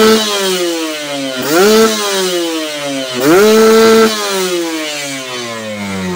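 Kawasaki Ninja trail motorcycle fitted with a PWK 33 carburetor, revving alone at close range: a steady buzzing idle broken by two sharp throttle blips that rise in pitch and fall back.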